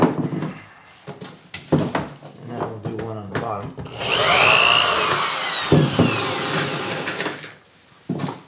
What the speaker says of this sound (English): I'll go ahead and drill one screw and drill one hole